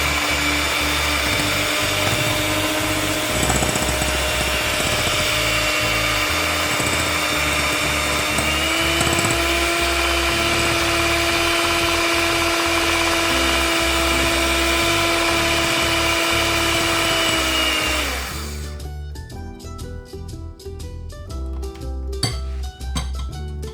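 Electric hand mixer whipping oil for cake batter, a loud, steady mechanical whine with a constant motor hum for about eighteen seconds, then switching off, leaving quieter clattering and kitchen sounds.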